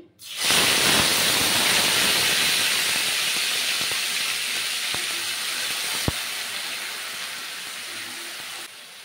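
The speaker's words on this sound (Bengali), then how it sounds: "এই তেলের মধ্যেই 3টে পেঁয়াজ পেস্ট করে রেখেছিলাম" Onion paste made from three onions hits hot oil in a Bengali fish curry kitchen, setting off a sudden loud, steady sizzling hiss that slowly eases over several seconds.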